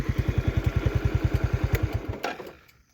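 A Yamaha motorcycle engine runs close by with a steady, rapid thumping beat that cuts off after about two seconds, followed by a sharp clack and fading quiet.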